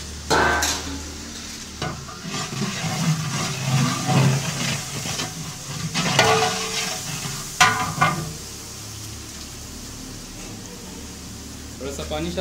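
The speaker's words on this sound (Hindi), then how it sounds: "और अच्छी तरह से भुनाई करेंगे मसालों की।" Whole spices like cloves, black cardamom, star anise, peppercorns and cinnamon fry and get stirred in a large pot for commercial degi biryani, with a soft sizzle and scraping stirs under a person talking.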